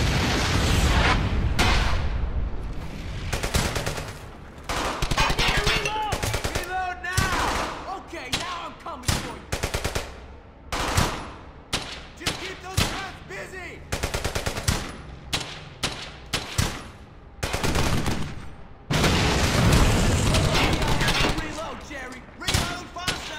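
Gunfire in Brothers in Arms: Hell's Highway, a World War II shooter: bursts of machine-gun and rifle fire crackle loud and close throughout, with booming impacts, while a person talks over the battle.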